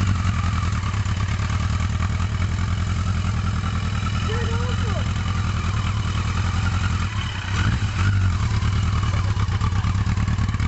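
Motorcycle engine idling nearby, a steady low throbbing rumble running throughout with a brief dip and surge near the middle, while people talk over it.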